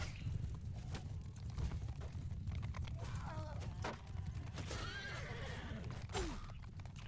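Horses neigh and whinny in a Bannerlord battle with the Realm of Thrones mod, several shrill calls rising over a dense din of hooves and clashing fighters, fairly close.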